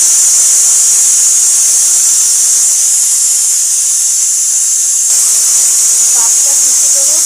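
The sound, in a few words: pressure cooker hissing steam while cooking mutton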